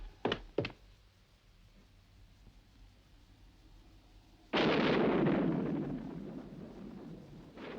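Thunder during a nighttime storm. Two quick sharp cracks come first, then a sudden heavy rumbling crash that rolls on and slowly fades. Loud and fairly close, with no talk.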